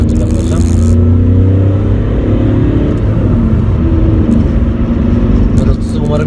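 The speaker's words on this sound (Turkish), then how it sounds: "Arabanın homurtusu gerçekten çok tatlı bir homurtusu var." A Volkswagen Polo 1.2 TDI Bluemotion turbodiesel idles with a loud, steady low rumble close by, while someone talks over the engine.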